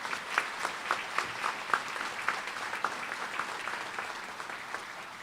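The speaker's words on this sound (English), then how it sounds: "how about a nice round of applause for all our nominees and awardees this morning?" Audience at a police awards ceremony gives a round of applause for nominees and awardees, a steady, fairly quiet wash of many hands clapping at moderate distance.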